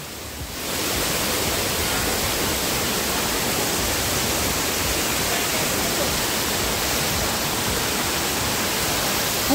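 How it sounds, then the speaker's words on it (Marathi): A large waterfall at Bhimashankar roars as a dense, even rush of water. It starts loud after a brief quieter moment and holds steady throughout. "धबधबा कसला मोठा आहे."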